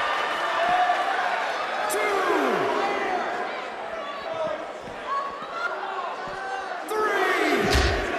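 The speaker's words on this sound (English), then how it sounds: "Thunderous slam." A thunderous wrestling slam lands in the WWE 2K19 video game amid a roaring arena crowd, with swelling cheers and sharp impacts and a commentator talking over the noise.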